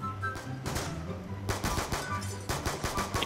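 Gunfire from Call of Duty Black Ops 2, aimed at players' shields in a Zombie Says match: two bursts of rapid automatic shots, the second louder and denser, ringing out over a quiet background without talk.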